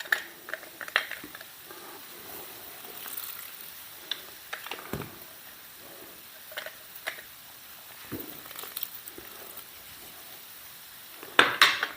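Spoon scraping and clinking against a pot while beef barbacoa sauce with lime juice is stirred, scattered light taps and scrapes spread irregularly over a quiet background, with a sharper clatter at the end.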